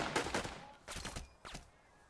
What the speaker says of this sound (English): let's shoot this machine gun from the rear